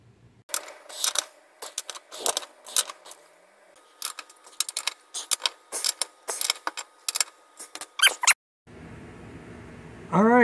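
A ratchet clicks in quick bursts as bolts on a Jeep XJ Cherokee transfer case are tightened, close and crisp with short pauses between runs, then a voice begins at the end.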